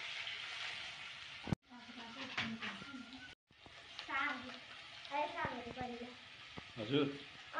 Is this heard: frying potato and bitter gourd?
yes